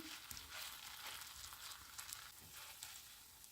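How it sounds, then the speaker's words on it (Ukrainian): Continuous crackling sizzle of grated potato batter frying in hot oil for meat-filled potato pancakes, soft and steady with scattered pops throughout. "Коли олія в нас добре розігріється, тоді можна викладати картопляне тісто."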